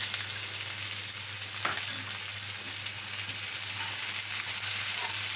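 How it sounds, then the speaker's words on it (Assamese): Green chillies, capsicum and carrots are stir-fried in a pan, giving a continuous close sizzle with faint stirring and a low steady hum beneath, with no voices. "এতিয়া আমি মাত্ৰ 2 মিনিট এইখিনি লৰাই লৰাই ভাজি ল'ম"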